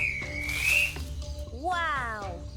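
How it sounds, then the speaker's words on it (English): Pet-summoning whistle from the video game Patch Quest, a rising then gliding whistle tone followed by a warbling, bending electronic chirp, moderately loud in game audio with no talking. "Blow this whistle and your pet will come straight to your aid."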